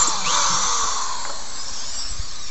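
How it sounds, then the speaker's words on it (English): A power driver backs sheetrock screws out of a wooden knife-throwing target board, a high steady whine running continuously and close throughout, shifting slightly in pitch as the screw turns out. "So I'm just going to remove the remaining screws."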